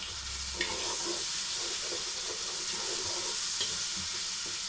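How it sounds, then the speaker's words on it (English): A wooden spoon scrapes and stirs courgette curry in a pan, with repeated short scraping strokes over a steady sizzling hiss, close and fairly loud. "Sorry about the scraping, guys, I'll just use a wooden spoon"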